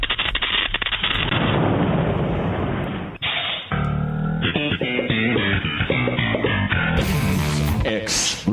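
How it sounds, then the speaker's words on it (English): An explosion sound effect on a talk-radio broadcast: a dense, rumbling boom roars for about three seconds, then gives way to other broadcast sound. "Explosion."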